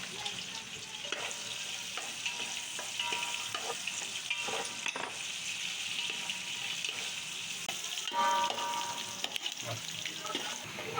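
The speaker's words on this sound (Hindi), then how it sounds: "प्याज को फुल ब्राउन करेंगे हम।" Chopped onions frying in hot ghee for a junglee pulao, a steady bright sizzle with occasional stirring scrapes and crackles throughout, with no talking.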